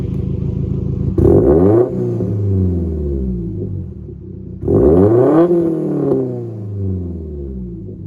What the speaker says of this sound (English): I just have one quick video of revving, so I'll put that in here.